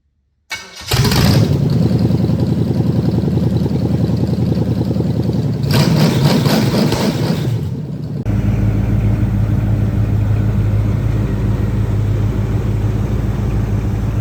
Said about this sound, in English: now that we're done playing with engines on the floor